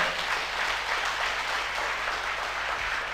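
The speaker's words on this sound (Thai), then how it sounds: "ผมอยากจะให้ทุกคนเนี่ยปรบมือให้กับคนที่แนะนำคุณมาในวันนี้หน่อย" Steady applause from an audience at a J&C marketing-plan meeting, a dense, even wash of many hands clapping at constant loudness for the whole stretch, with no voices over it.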